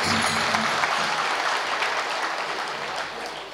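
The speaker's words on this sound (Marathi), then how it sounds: "एकदा चांगल्या कडकडीत जोरात टाळ्या." Audience clapping at a devotional kirtan event, a dense, loud wash of applause sustained throughout and fading slightly toward the end.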